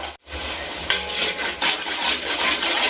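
A spoon scrapes and stirs through thick vegetable curry in a pan, with soft sizzling and repeated rubbing strokes, close up and alone.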